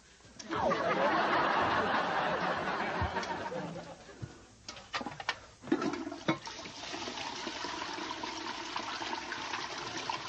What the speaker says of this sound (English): Flush it down the loo.